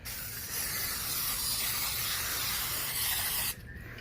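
Cooking spray hissing steadily from an aerosol can onto a pan for about three seconds before cutting off, close and loud with no talk.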